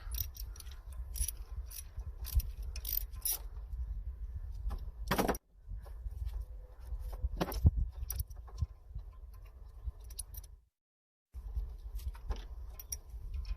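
Metal clinks and small ratcheting taps from a bolt being backed out by hand on a 2000 Lincoln Town Car engine during a misfire repair, close and intermittent over steady background hum, with a short silent gap near the end.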